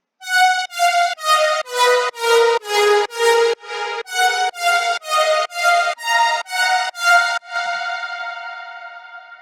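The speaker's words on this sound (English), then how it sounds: "This is the lead that I made myself for the remix." A bright, buzzy synth lead plays a staccato melodic run of about fifteen notes, then holds a final note that fades out, with nothing else playing.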